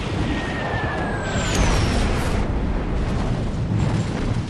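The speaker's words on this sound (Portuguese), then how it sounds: "Uma única bomba de 250 quilos atinge o destroyer, fazendo o leme travar em 26 graus a bombordo" A 250 kg bomb striking a destroyer in a kamikaze-era naval air battle, a sustained rumbling blast wash that stays loud and dense throughout, with faint whistling tones sliding over the top.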